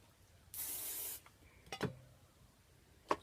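A single close burst of hairspray onto teased hair, a sharp hiss lasting about half a second, followed by soft rustling and light handling noises.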